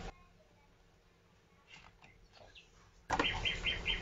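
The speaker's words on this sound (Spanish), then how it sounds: "dos pájaros se posaban en él" Two birds land on a thread: faint rustles, then a sudden loud burst of wing flapping with a few chirps near the end, set in a quiet scene.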